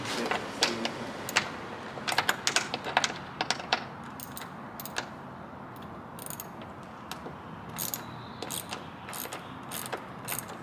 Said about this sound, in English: We're gonna find a socket for this, and we're gonna take the light out.